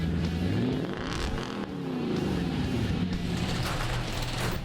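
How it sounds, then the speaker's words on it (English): Truck fitted with a Dirty Deeds Industries exhaust upgrade revving up and down, its engine pitch climbing and falling in repeated sweeps, loud and close throughout. "let's take a listen to see what Dirty Deeds Industries can do for the sound of this truck"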